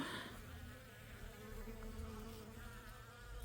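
Steady, close buzzing of many bees around hellebore flowers, a continuous droning hum with no voices.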